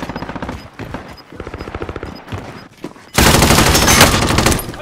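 Shots aimed at the player in a shooter game break out as a loud, dense burst of automatic fire that swamps the scene after a quieter stretch of rhythmic game noise and a voice.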